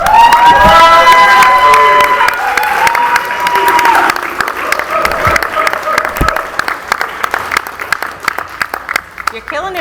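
A school board meeting crowd at Mineola ISD bursts into loud applause and cheering, with whoops and shouts at first, then the clapping thins and fades toward the end.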